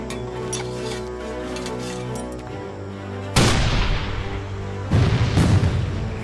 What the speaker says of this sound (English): The ordnance delivers shells that explode on impact.